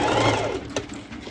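A sewing machine stitches two layers of fabric together for a cropped top, a steady close whirring run that slows and fades toward the end.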